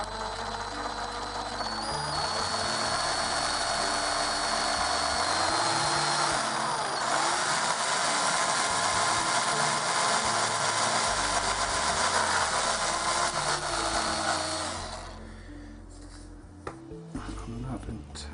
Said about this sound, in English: with the step drill bit, I'm going to open it out until I can fit the switch in